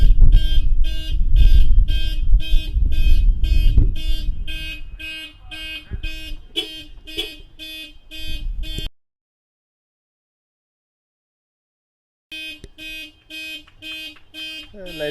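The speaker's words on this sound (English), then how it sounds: "we'll be back as soon as that car alarm decides to just limit the amount of noise being pushed out" A parked car's alarm blares at a cricket ground during an over-50s World Cup match, its pulsing electronic tones repeating loudly for several seconds before a pause and then resuming, with crowd noise and talk underneath early on.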